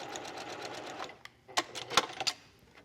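A sewing machine runs in a short steady burst stitching a seam finish on a dress, followed by a few sharp clicks and knocks as the fabric is handled.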